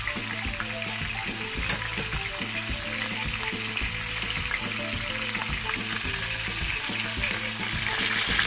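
Lobster frying in a pan for an herb butter lobster dish, loud continuous sizzling close up, bubbling and spitting evenly throughout with no voices.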